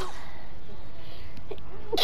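A single sneeze bursts out right at the end after a stretch of quiet room noise during a gaming session.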